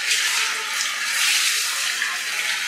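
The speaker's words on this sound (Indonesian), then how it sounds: "kita siram dulu. Karena Bang badannya kotor banget" Water pours steadily over a dirty, mud-covered man as he is washed while seated, a continuous splashing rush that stays close and loud throughout, with no talk over it.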